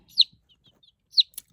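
Chickens in a backyard coop area giving two short, high clucks or chirps about a second apart, fairly close, with faint scuffling between.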